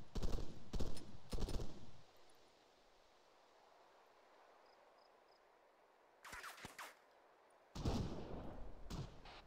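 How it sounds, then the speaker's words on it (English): Rounds land and crack nearby in a military video game, dense bursts of gunfire at the start, then quiet, then more sharp bursts and a sustained volley loud and close at the end. "Those rounds are landing near us"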